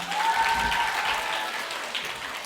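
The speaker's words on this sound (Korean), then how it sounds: "다시 한번 박수 부탁드립니다" Audience applause at a literary stage event with a rap performance, a soft, even patter of many hands at moderate distance, with a faint tone drifting above it.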